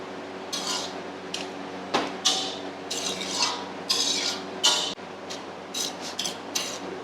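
A spoon stirs and scrapes through hyacinth bean pongal in a pot after the water used to cook the beans is added, giving intermittent metallic clinks and soft scraping bursts.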